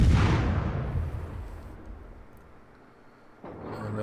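A single heavy naval gun salvo from an Italian Tier 7 premium destroyer in World of Warships, opening with a loud boom that rumbles and fades over a few seconds before a fainter sound returns near the end.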